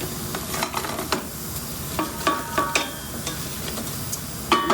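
Onions and garlic sizzle steadily in a hot pan for salsa, a loud continuous hiss broken by occasional scrapes and clinks of stirring.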